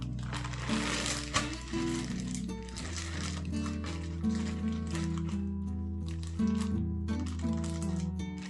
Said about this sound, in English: So I'm going to wear a plastic cap.